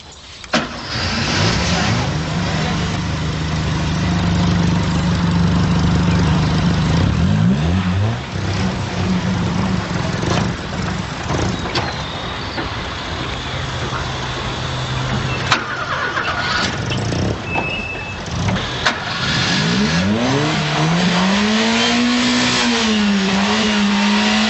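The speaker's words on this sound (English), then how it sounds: "Start the engine." A car engine cranks and catches, settles into a steady idle, then revs up and down in rising and falling sweeps, fairly close, with some talk over it.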